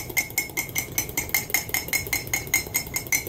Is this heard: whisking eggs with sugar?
yes